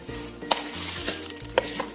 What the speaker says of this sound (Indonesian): Kita becek-becek lagi sampai benar-benar halus.